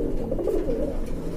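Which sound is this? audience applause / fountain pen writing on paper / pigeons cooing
pigeons cooing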